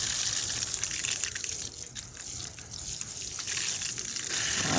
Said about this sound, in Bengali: একটু ভালো করে জল দিয়ে দিতে হবে।